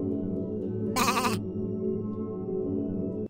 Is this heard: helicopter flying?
no